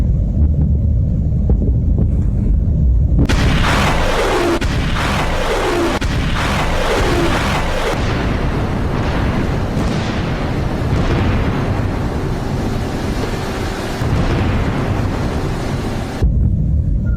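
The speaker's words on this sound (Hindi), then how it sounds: "धमाके सुनिए।" Explosions from an Iranian attack on Victoria Base, a US military site near Baghdad, with several heavy booms in quick succession followed by a long rumbling roar, loud and continuous with wind buffeting the microphone.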